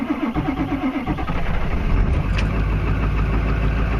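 A truck with a weak, dead-prone battery cold-starts on a chilly day, cranking into a rough, steady idle that rumbles close and loud with no talk over it.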